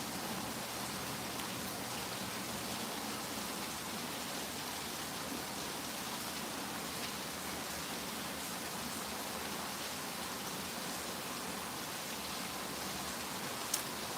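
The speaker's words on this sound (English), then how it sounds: "Y'all like the sound of the rain?" Steady rain falls and patters on surfaces in an even, continuous hiss, soft and unbroken with no voices over it.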